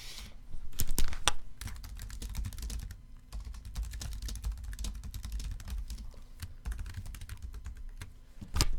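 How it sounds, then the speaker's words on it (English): Close computer keyboard typing while entering merge code into an email template, a steady run of sharp, irregular key clicks with brief pauses, alone without speech. "we just type in the merge code that we created along with our text and save that"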